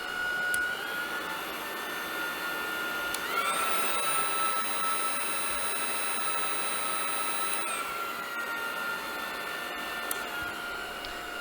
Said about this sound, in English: You can control the suction power, and here's a demonstration of the noise level generated by the 3 levels.